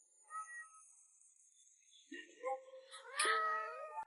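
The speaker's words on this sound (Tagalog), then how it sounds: "Buhay na buhay ang kuting." A kitten gives a few short, high meows, the first faint and isolated and the later ones closer and louder, ending in a rising, drawn-out cry.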